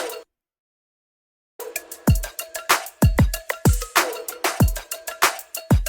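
Hard-hitting boy-group style drum track, run through a drum bus processing chain: after a second and a half of silence, loud punchy kicks and cracking snares repeat in a steady driving groove with bright cymbal wash.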